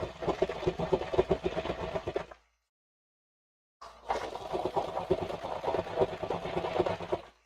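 A sewing machine stitches a tote bag in fast, even rapid chatter, close and fairly loud, in two bursts split by a pause of about a second and a half, with no talking.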